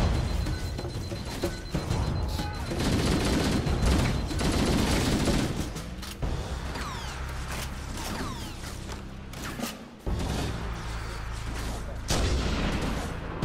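Dense gunfire and explosions from a Halo: Combat Evolved session, with rattling shots and booming blasts that come in close, continuous bursts along with mechanical clatter.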